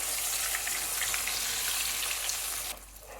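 Chicken marinade, tomato puree, nut paste and spices frying in a pan, a dense continuous sizzle heard up close that drops away sharply near the end.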